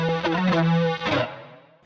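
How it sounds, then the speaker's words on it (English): Electric guitar run through an Arturia flanger plays a short sustained chord with a swirling, sweeping tone that cuts off and fades within about two seconds. "Turn on a Flanger by Arturia."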